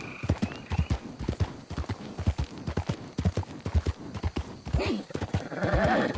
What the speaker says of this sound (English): Clip clop, clip clop, clip clop.